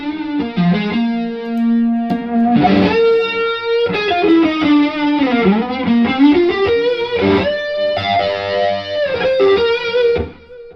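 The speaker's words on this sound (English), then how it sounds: "The Eventide is a great delay pedal that I use just a few sounds on" Electric guitar played through an Eventide delay pedal, a distorted melodic line with bends and sustained notes, each phrase trailing repeating echoes, loud and close with no talking.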